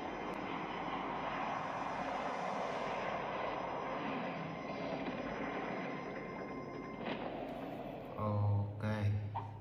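An airplane engine in a video game drones steadily and loudly throughout, with a few mechanical clunks and thumps near the end.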